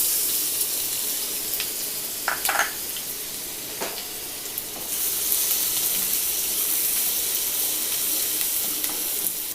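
Chopped garlic and ginger frying in hot oil for restaurant-style chilli chicken, giving a steady close sizzle that swells louder partway through, with a few brief stirring clinks and scrapes.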